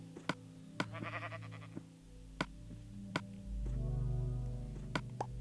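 Sheep bleat in Minecraft, several short bleats from a few animals spread across the scene, mixed with sharp ticking game clicks and a low droning tone partway through.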